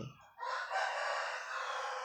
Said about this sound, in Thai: ไก่ชนตัวใหญ่เลย ค่ะไก่ชนตัวใหญ่